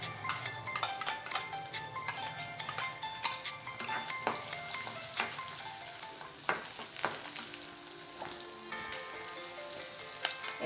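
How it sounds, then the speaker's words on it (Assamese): Finely chopped onion, garlic and ginger fry in a pan after cumin seeds, giving a continuous soft sizzle with scattered crackles and faint stirring clicks, fairly close and quiet. "এইখিনি অলপ দেৰি ভাজি ল'ম ৰঙচুৱা হোৱালৈকে।"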